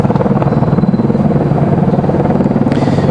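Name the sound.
helicopter hovering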